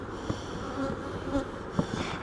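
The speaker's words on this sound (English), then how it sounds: "I don't know which bees are in this right now" Bees buzz around a honey frame fresh from extraction, a steady close insect drone with a few louder passes near the listener.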